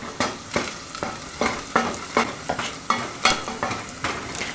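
Onions and garlic sauté in a pan with a steady sizzle, broken by repeated scraping strokes as they are stirred, close and moderately loud with no voices.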